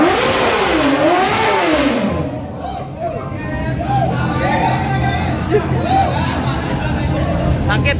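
A car engine revs loudly, its pitch sweeping up and down in repeated surges, while several cars warm up nearby and people chatter throughout.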